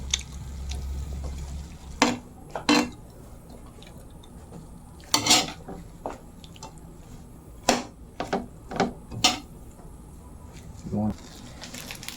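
Pancit canton with kikiam is stirred in a pan, giving quiet, scattered clinks and scrapes of a utensil against metal with soft wet squishing between them.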